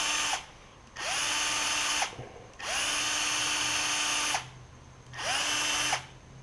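Power tool with a flap wheel grinding metal on a salvaged Murray push mower with a Briggs engine, loud close bursts of high whine and rasp, four long runs separated by brief spin-downs and pauses.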